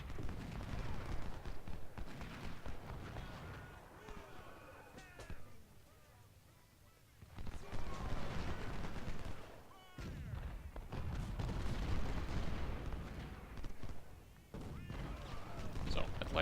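Civil War strategy video game battle at First Winchester, rolling musket volleys and booming artillery in waves that swell and fade, with someone talking over the fighting.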